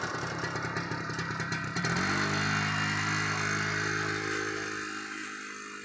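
A TVS XL moped engine revs while being ridden: a close, steady motor drone whose pitch shifts and settles into a fuller, even hum partway through.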